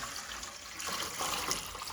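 Water pours into a pot to make pickle brine in a home kitchen, a faint, steady splashing trickle that runs for a couple of seconds with nobody talking.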